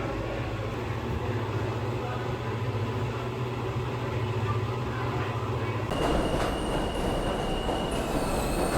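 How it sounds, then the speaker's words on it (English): A passing train heard from nearby, a loud continuous rumbling roar with a steady low hum and metallic squealing tones, shifting in character after several seconds and never letting up. "I hope you guys can hear me over the stupid fucking train"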